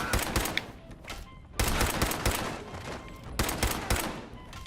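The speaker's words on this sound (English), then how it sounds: "Somebody's out there shooting the place up." Video game gunfire, dense bursts of rapid automatic shots in three loud volleys separated by brief lulls, close and harsh.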